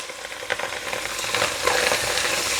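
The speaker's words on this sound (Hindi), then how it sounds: "1 टेबलस्पून बटर और फ्यू ड्रॉप्स ऑफ ऑयल, और उसमें मैं डाल रही हूँ मशरूम जो मैंने काटे हुए हैं।" Chopped mushrooms fry in a tablespoon of butter with a few drops of oil, a steady close sizzle with crackling pops and occasional stirring, growing slightly louder over the few seconds, no voices.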